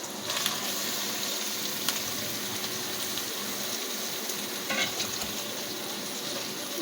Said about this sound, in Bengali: এবার আমরা ম্যাগনেট করা মাংসটা দিয়ে দেবো